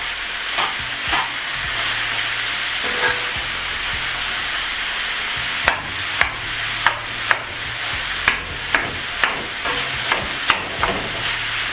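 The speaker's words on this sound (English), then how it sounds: "You want to saute those veggies." Mixed peppers and other vegetables sauté in a pan for a beef and cheese wrap, a steady loud sizzle punctuated partway through by a run of sharp, regular spatula taps and scrapes against the pan.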